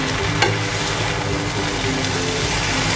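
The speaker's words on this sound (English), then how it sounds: "I'll garnish it with some spring onion and let's mix it." Chicken chow mein noodles with spring onion being stir-fried and mixed on high flame, a loud steady sizzle with scraping and stirring throughout.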